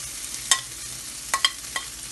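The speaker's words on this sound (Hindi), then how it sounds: "इसको थोड़ा सा भूनकर ड्राई करेंगे।" Grated coconut roasting in ghee in a pan gives a faint, low sizzle, broken by a few sharp scrapes and clinks of a spoon stirring.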